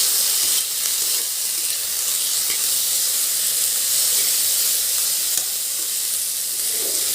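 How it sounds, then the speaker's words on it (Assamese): Ginger garlic paste and spices frying in a pan for an Assamese fish curry, giving a loud, steady sizzle that runs without a break and carries faint stirring scrapes. "আদা নহৰুখিনিও দি দিছোঁ যাতে গোটেইখিনি মছলাই ভালদৰে ফ্ৰাই কৰি ল'ব পাৰোঁ"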